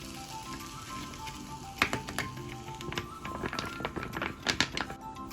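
Chicken and seafood paella sizzles and fries in a pan as coconut milk is added, a steady low hiss broken by scattered taps and clinks of stirring, close and moderately quiet with no talking.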